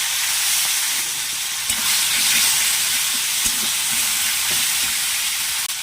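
A bay leaf sizzles in fish oil from baul fish in a cooking pan, making a loud, continuous hiss with occasional soft knocks from stirring.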